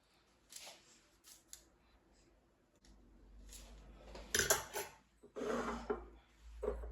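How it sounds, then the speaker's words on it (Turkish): Fork tines scoring lines into soft minced-meat-filled poğaça dough: a few light, scratchy strokes close by, quiet at first and then firmer and denser, with faint rustling between them. "Şu şekilde çatal ile çizikler atalım."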